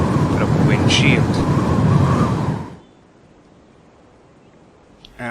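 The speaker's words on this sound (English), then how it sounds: "So our wind, the tornado goes zooming off." A tornado wind spell in an indie game roars loudly for a few seconds in a rushing, gusty whoosh, then cuts off to near silence.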